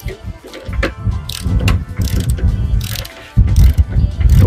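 Ratchet wrench tightening bolts on a Citroen XM hydropneumatic suspension sphere, with close bursts of rapid clicking and metallic rattles and a short pause between strokes.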